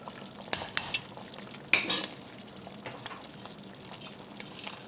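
Metal lid set onto a pot of New Orleans-style gumbo, a few sharp clinks and a clatter near the start, then low simmering bubbling and faint stirring noise.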